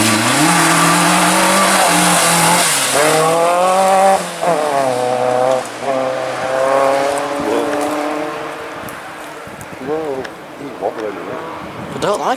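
A rally car on a forest stage brakes hard, its engine note dropping and rising through downshifts as it nears and passes loudly, then fades into the distance while people talk nearby.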